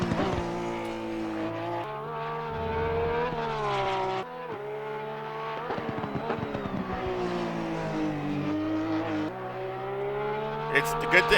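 A 2021 Porsche race car in Assetto Corsa Competizione at the Nurburgring screams loudly through rising gears, the engine note climbing and dropping sharply at each shift, with brief tire squeals near the end.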